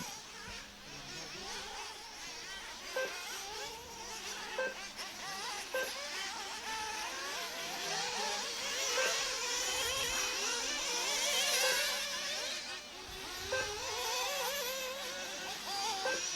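Off-road race car number 13 in a French Elite off-road championship final, its engine a steady, distant buzzing drone that rises and falls slightly throughout.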